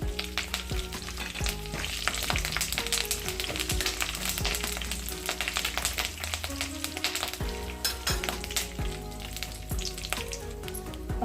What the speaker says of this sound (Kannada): ಸ್ವಲ್ಪ ಕರಿಬೇವು ಹಾಕ್ತಾ ಇದ್ದೀನಿ.